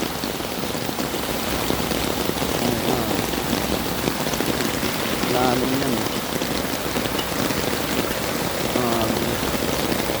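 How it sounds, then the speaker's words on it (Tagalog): Heavy typhoon rain in Manila pours in a dense, constant hiss, with a few faint voices speaking briefly beneath the downpour. "malakas pa rin ang ulan hanggang ngayon"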